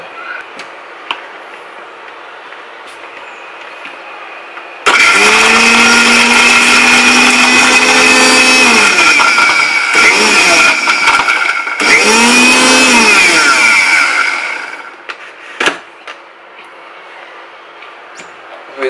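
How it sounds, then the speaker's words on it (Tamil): An electric blender grinds apple into a smoothie, starting abruptly with a loud, close motor whine that runs several seconds, dips briefly, surges again, then stops, leaving quieter handling noises around it. "நீங்கள் அது பால் ஊற்றுனீங்கன்னா நல்லா அரைஞ்சி உங்களுக்கு ஸ்மூத்தி மாதிரி வந்துடும்"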